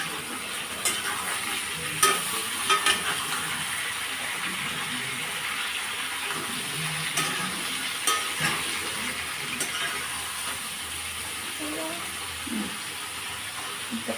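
Red lentils fry and are stirred in a hot pan, a soft steady sizzle with scattered scraping clicks of the spoon.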